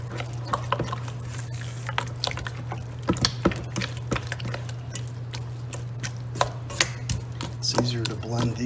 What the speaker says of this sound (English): Give it a good mix. Make sure we get it all blended up.